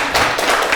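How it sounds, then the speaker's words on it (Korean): Audience at a Dongguk University lecture breaks into a brief burst of clapping, a dense, close patter of many hands lasting under a second with no talk over it. "제 말이 맞으면 박수 한번 치시고"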